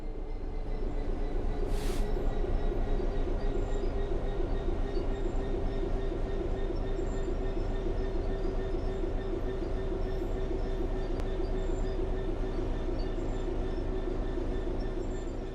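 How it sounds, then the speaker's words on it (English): A train in the Train Sim World 3 video game coasts on level ground with a continuous low rumble and rhythmic wheel clatter, no engine surge, droning on evenly throughout. "The train will then coast on level ground, and the train will only slow down very gradually."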